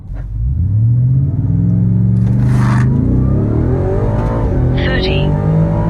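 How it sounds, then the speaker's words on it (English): A 2024 Ford F-150 Raptor R truck running on 93 octane with 1,200 miles on it accelerates hard from a standstill to 60, its loud engine roar climbing steadily in pitch without a break. "So I'm gonna be real curious to see what this truck will do 0 to 60"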